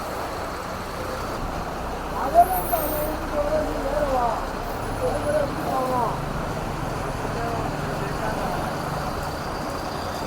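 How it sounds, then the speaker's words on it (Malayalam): A KSRTC bus from the Karunagappally depot, bound for Tenkasi, passes on a busy road near a checkpost, a brief rising engine swell over steady traffic noise with people talking nearby. "കരുനാഗപ്പള്ളി ഡിപ്പോയിൽ നിന്ന് സർവീസ് തുടങ്ങിയ ഒരു ബസ്സാണ്. അവിടെ തെങ്കാശി വരെ ആ ബസ്സാണ് ഈ പോയത്."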